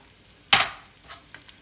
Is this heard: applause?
no